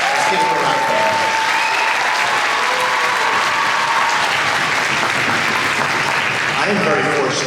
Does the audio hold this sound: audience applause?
yes